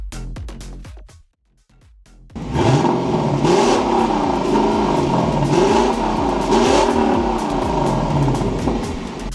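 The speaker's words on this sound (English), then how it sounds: "this is how the LC500 V8 sounds like" A Lexus LC500's naturally aspirated 5-litre V8 fires up after a brief pause and revs hard, loud and close, with rising and falling engine pitch sustained throughout and no speech.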